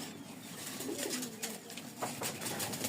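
Rajshahi Giribaz pigeons, a big-sized pair, coo softly and repeatedly at close range over a steady background hiss, with no talk.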